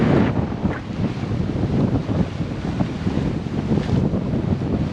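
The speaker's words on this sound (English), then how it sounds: "there's no way there's less than 20 knots of wind, and there's white caps and waves" Strong gusting wind over a heeling sailboat in whitecap seas off Newfoundland, a heavy, buffeting roar against the microphone that surges and eases, with waves washing underneath.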